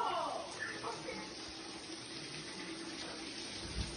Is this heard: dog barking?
no